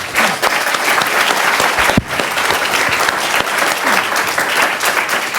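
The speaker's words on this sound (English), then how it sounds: "So let's give our two speakers a round of applause." Lecture audience applauding two speakers after a Q&A on evolution, loud continuous clapping from a full room with a sharp thump partway through, no speech over it.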